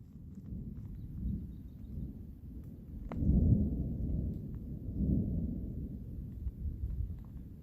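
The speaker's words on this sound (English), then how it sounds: "there you go, there's the thunder." Distant thunder in the Spring Mountains of Nevada rolls in as a low, muffled rumble, swelling after a sharp onset partway through and fading slowly, with a second softer roll following, no talk over it.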